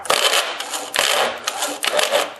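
The starter gear on an Evinrude outboard motor slips on the flywheel, giving loud, harsh metallic grinding and rattling in three rough bursts, close up and with no talking.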